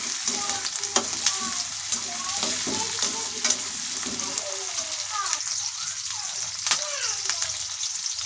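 Sliced onions and curry leaves sizzling steadily in hot oil, stirred with frequent scraping strokes across the pan; a close, continuous fry with repeated utensil scrapes throughout.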